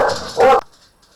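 A house dog barking at the postman lets out two loud, close barks, the second sharper and higher, then stops suddenly into quiet.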